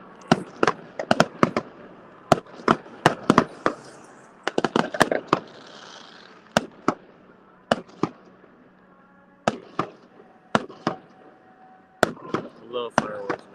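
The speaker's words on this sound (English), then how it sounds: "Watch the fireworks." A fireworks show goes off in a rapid, uneven series of sharp bangs and crackles, some in quick clusters. The bursts are loud and echo slightly, with brief quiet gaps between them and no talking.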